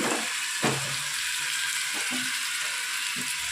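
Mint and coriander leaves dropped into hot oil for chicken biryani, giving a steady close sizzle with a few soft stirring knocks throughout.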